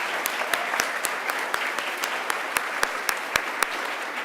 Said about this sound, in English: I'd like for us to give a big round of applause to Michelle Rankin